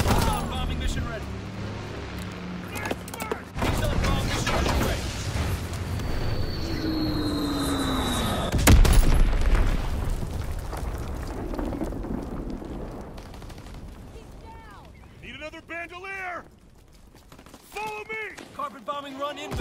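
Call of Duty WW2 bombing run: a loud sustained roar of engines and heavy explosions with a sharp peak midway, rumble fading into softer bursts, with speech and game voice lines over it.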